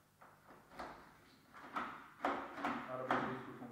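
A plastic door with a chip-operated three-point lock is opened, giving a series of quiet clicks and latch clunks spaced irregularly, with a soft voice in the background.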